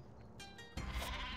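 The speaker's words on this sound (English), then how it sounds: "The glitch sheep." A sheep bleats once from the Worms: Clan Wars game, a short nasal cry over a low background hum, with no talking.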